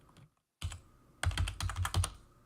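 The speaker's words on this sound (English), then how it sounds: "I'm typing, and I'm typing for a reason." Rapid bursts of typing on a computer keyboard, crisp close keystrokes in quick clusters separated by brief pauses, with no voices.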